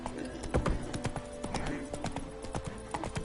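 Roach, the horse in The Witcher 3, gallops in a steady, rhythmic clip-clop of hooves on hard ground, close and moderately loud, with faint game ambience beneath.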